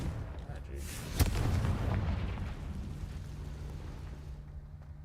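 A Confringo spell blast in Hogwarts Legacy goes off as a sharp, booming explosive crack followed by a rumbling fiery tail that fades over a few seconds, with faint game background around it.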